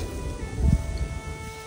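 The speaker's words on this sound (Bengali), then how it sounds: "খুব সুন্দর বাতাস" A cool wind blows steadily across a hill trail on Chandranath Hill near Sitakunda, a low rushing hiss with a brief gust, close to the microphone and with no talk.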